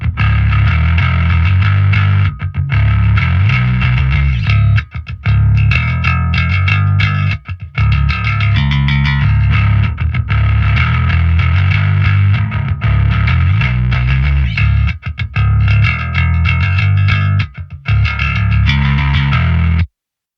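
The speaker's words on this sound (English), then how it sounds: "let's turn the distortion block on and off for a second so you can hear what it's doing" Heavy distorted bass from a Line 6 Helix/HX Stomp rock and metal patch plays continuously and loudly, its gritty tone switching between clean and fuzzy several times as the distortion block toggles on and off.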